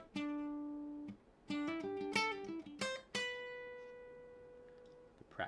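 An electric guitar plays an intro lick in G quickly, with a run of clean plucked single notes and slides ending on a sustained ringing note, quiet and alone with no talking.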